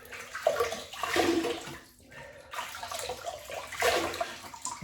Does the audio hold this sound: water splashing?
yes